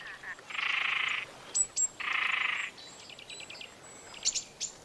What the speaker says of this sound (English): The great crested grebe has started courting.